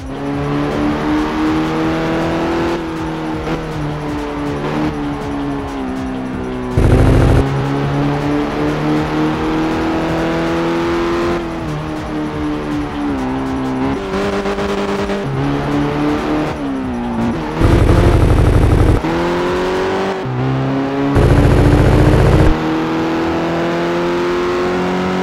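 Nissan 180SX engine in the racing video game Assoluto Racing, revving and accelerating loudly and continuously, with the engine note rising and falling through gear changes and a few abrupt bursts of harsher noise.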